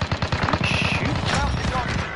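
Rapid automatic gunfire in a PS4 shooter game, a fast burst of evenly spaced loud shots running for about a second and a half before trailing into game noise, with a voice in the background.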